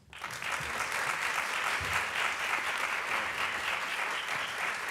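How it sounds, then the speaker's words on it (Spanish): Warm applause from the audience at a book presentation welcoming author José Vicente Triviño Palomo; clapping swells quickly from the start into a dense, steady ovation that holds at full strength. "recibimos aquí, aunque él va a hablar ahí sentado, con un fuerte aplauso a José Vicente Triviño Palomo"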